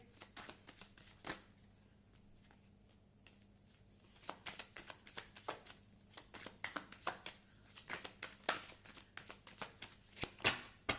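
Close by, a deck of tarot cards is being shuffled in quick riffling bursts, with short pauses between runs of crisp, flicking card noise and no talking over it.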